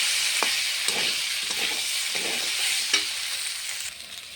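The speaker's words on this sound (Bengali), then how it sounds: "মশলার সঙ্গে আলু পটলটা একটু কষিয়ে নেব।" Fried potato and pointed gourd sizzle in hot oil with spices in a pan, a continuous bright frying hiss broken by the scrape and clack of a spoon stirring.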